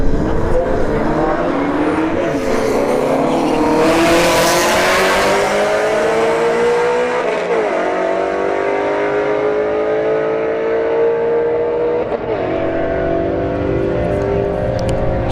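A Volkswagen Golf R and a Ford Shelby GT350 drag race on a strip, loud engines roaring and revving through the gears for several seconds as they accelerate away.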